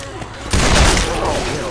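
A single loud, booming gunshot in Left 4 Dead 2 bursts out after a brief quieter moment, its blast tailing into a sustained noisy wash of game sound.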